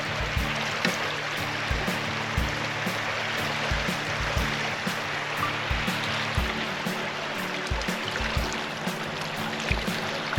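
Glacier-fed Savage River stream in Denali National Park rushing steadily over rocks, a continuous close wash of flowing water with faint low knocks and no talk.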